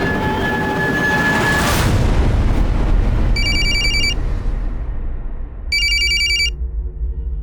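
An electronic telephone ring sounds in two short bursts, separated by a pause, over loud, steady background rumble and traffic noise.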